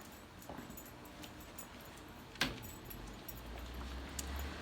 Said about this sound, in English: He follows me everywhere, so he's a shop dog